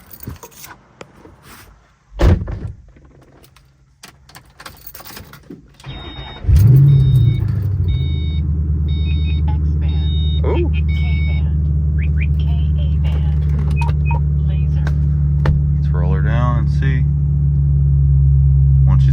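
A race car engine cranks and fires up after some clunks and jingling keys, then settles into a loud, steady, rumbling idle with voices over it.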